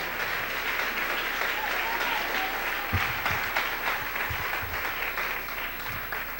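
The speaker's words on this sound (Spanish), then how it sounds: "Dale un aplauso al Rey." A church congregation applauds in a continuous, dense wash of clapping at moderate volume, with a few low thumps and faint voices mixed in.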